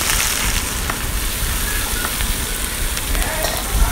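Onion, mustard seeds, chana dal and urad dal frying in hot oil with curry leaves for a brinjal fry, giving a steady, fairly loud sizzle that runs continuously without any talking.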